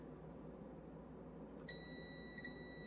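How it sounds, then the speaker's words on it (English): A multimeter set to continuity emits a single sustained electronic beep partway through, steady and clear over a low background hum. "See, I hear beep means good."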